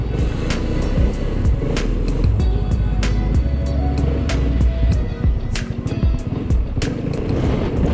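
A BMW C400GT scooter engine drones steadily while riding, its hum blended with heavy wind rumble at the microphone throughout, with no voices.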